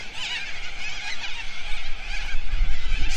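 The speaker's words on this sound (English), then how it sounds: "scared the birds." Flock of birds startled into flight near a flooded Blanchetown riverbank, giving a loud, continuous chorus of goose-like honking calls that build toward the end.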